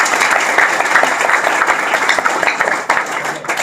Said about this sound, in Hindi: शिव शरण जी के लिए, हमारे सीनियर पर्सन के लिए बहुत जोरदार तालियां।